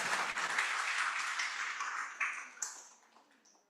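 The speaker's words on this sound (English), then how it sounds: "A round of applause, everyone." An audience applauds a keynote speaker at an education, environment and agriculture conference, a dense wash of clapping that swells briefly and then thins out and fades, with a few stray claps at the end.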